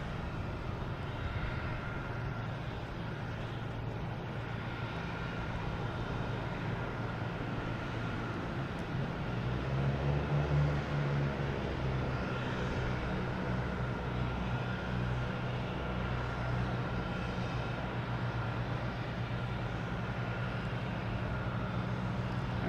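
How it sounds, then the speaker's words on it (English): An Air France airliner arriving from Paris lands at Boston Logan Airport, heard as a steady, broad jet roar at a distance that swells slightly midway and holds without any talk. "Air France coming in from Paris."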